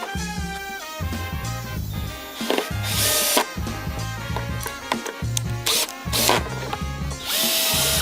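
Power drill with an oversized bit boring makeshift countersink holes into a wooden crosscut sled, the motor whining in several bursts that rise and fall in pitch with brief pauses between, loud and close with no talking.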